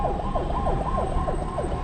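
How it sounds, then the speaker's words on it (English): A hearse siren wails in a steady, fast up-and-down cycle, loud and continuous, as the vehicle carries four COVID-19 victims to the Awudome Cemetery. "The siren of the hearse carrying 4 people who died of coronavirus to the Awudome Cemetery"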